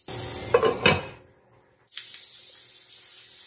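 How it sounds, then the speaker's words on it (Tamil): A lid is set onto a pan of beetroot cooking for thogayal: a few metal clinks and clatters, then a short knock as the cover lands, followed by a soft, steady sizzling hiss. "இது ஒரு லிட் போட்டு க்ளோஸ் பண்ணிக்கலாம்"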